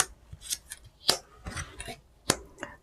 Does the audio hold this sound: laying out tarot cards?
yes